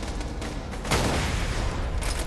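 A grenade explosion in Borderlands 2, a loud broad blast rising out of continuous dense game noise and trailing off with rumbling debris, followed by a fainter burst near the end.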